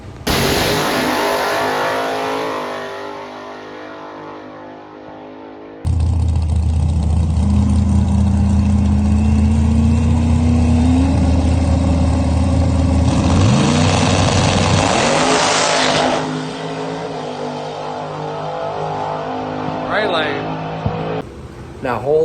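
A small-tire no-prep drag race car launches at a Black Friday race: a loud, sustained engine roar rising in pitch through the run, with continuous crowd and track ambience behind it.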